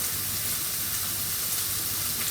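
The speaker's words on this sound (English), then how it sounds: "So there the courgettes, happily frying" Courgette sizzling steadily in a frying pan, a continuous close hiss and crackle of frying that holds evenly throughout with no talk over it.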